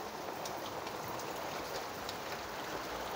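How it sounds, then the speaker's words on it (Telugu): Light rain falls steadily in a dense, even patter of drops on surfaces, close and continuous with no voices. "చిన్న వాన వస్తుంది"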